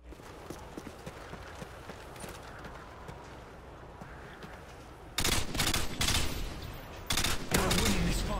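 Gunfire in Modern Warfare 2 during a one-on-one match, faint ambient game noise at first, then loud rapid bursts of automatic fire breaking in near the end in two close volleys.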